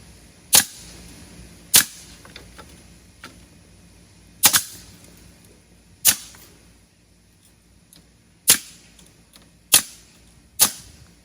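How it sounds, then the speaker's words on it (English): A staple gun fires into deck lattice trim, seven sharp, loud, close snaps spaced irregularly one to three seconds apart, with faint handling noise between shots and no talking. "And just staple it on."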